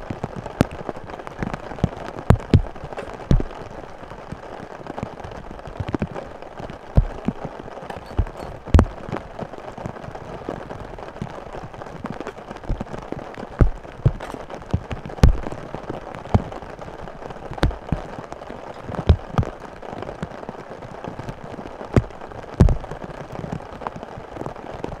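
Heavy rain falls on a tent and tarp at a campsite, a dense steady patter with sharp drips and louder drops striking the fabric close by.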